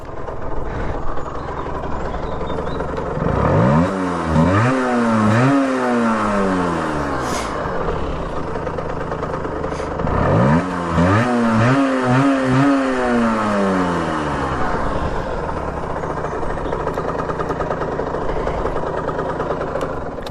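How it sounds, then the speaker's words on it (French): A Yamaha TZR 50 motorcycle engine revs hard twice, pitch rising and falling, over a steady loud idle, close by. "Elle fait un joli bruit quand même, c'est une 50"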